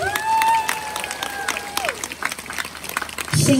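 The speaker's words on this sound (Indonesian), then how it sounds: "Tepuk tangan dulu dong." A crowd at a community social gathering breaks into scattered clapping. A sustained, sliding tonal voice or sound runs over the first part, and the clapping grows louder and fuller toward the end.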